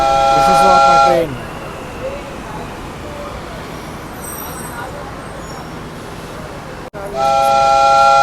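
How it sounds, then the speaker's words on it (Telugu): A Hyderabad metro train pulls in at a platform, its rumble running under a person talking, framed at both ends by a loud multi-tone electronic chime from the station or train. "ఇది నా ట్రైన్."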